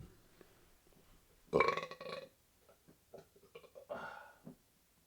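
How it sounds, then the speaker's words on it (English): A loud, close burp, followed by a few smaller gurgling burps and throaty sounds, with no talking. "And we all burp."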